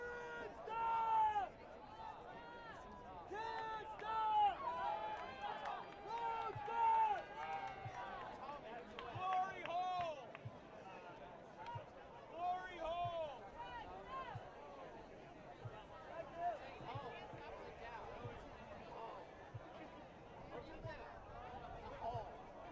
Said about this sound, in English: Great crowd in here in DC.